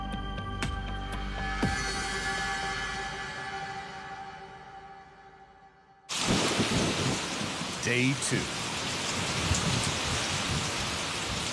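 Heavy rain pours down in the desert with rumbling thunder, a loud steady downpour hiss that bursts in after a fading engine-like drone, while a voice speaks briefly over it.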